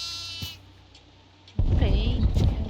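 A goat in the horror game Devour lets out a short bleat near the start. A loud low rumble and boom follow with some wavering cries, and voices talk over the later part.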